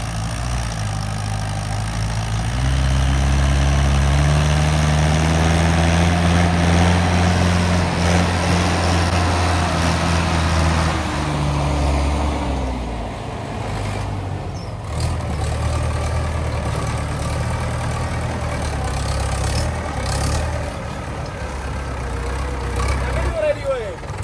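A Swaraj 855 tractor's heavy diesel engine runs steadily throughout, deep and rumbling at close range, with a brief change in pitch midway as if revving.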